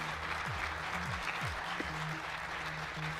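A large assembly applauds a speech in a replayed recording, steady faint clapping filling the whole span with low tones underneath.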